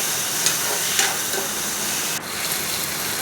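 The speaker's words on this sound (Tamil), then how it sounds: "பொரியட்டோன்னு வெங்காயம் போட்டு கருவேப்பிலை போட்டு வதக்கணும்" Onions and curry leaves sauté in a pan for a fish curry, giving a dense, continuous hiss of close frying with a few small stirring bumps.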